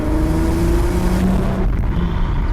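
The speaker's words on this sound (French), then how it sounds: "Le son métallique à l'échappement, c'est incroyable." An Audi TT MK1 3.2 V6 sends out a loud, close metallic exhaust note, holding a steady engine tone that eases off near the end, with no voices.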